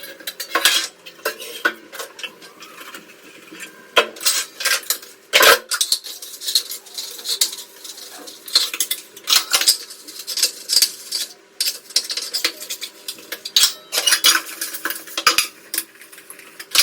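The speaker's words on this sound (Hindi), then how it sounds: "थोड़े थोड़े करके हम इसी तरह बर्तन धोते जा रहे हैं और साफ़ होते जा रहे हैं" Dishes, utensils and an idli maker being washed by hand, with steady clinks and clatters of metal cutlery and pots knocking together, alone and fairly close throughout.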